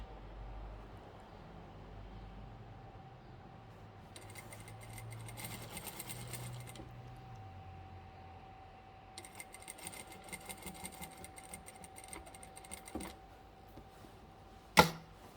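A sewing machine stitches down the folded hem of a trouser leg in two faint, quick-running bursts with a pause between them, ending with a small sharp click.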